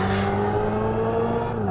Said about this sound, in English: An Active Sound Plus redefines the EV soundscape, crafting an immersive soundtrack that adapts to every move.